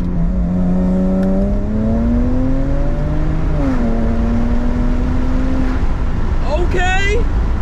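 A BMW 335i with the N54 engine revs hard at full throttle with antilag, a loud, steady rising engine drone with crackling pops, running continuously and close throughout.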